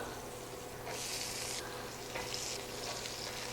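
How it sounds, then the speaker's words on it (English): Bell peppers sizzle and crackle in a hot frying pan, a steady close hiss that brightens into louder bursts as they are stirred, with no talking. "Who doesn't love to hear that sizzle when you're cooking?"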